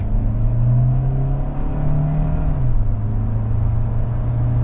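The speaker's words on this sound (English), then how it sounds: "We'll start from a dead stop. We'll give it some." 2025 Kia Sorento Hybrid SUV with a brand-new engine accelerating from a dead stop, heard from inside the cabin as a steady, low rumbling engine drone with a slight rise in pitch.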